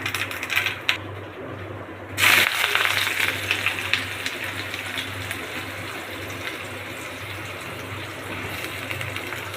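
Onions drop into hot oil in a kadai, and after a short quiet a loud, steady sizzle erupts and holds, dense and close for several seconds.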